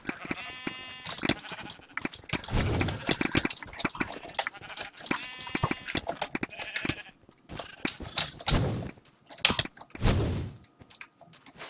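Blocky sheep in a Minecraft team minigame bleat repeatedly, overlapping short cries scattered across the clip amid clicks and game sounds, fairly close and with no talking.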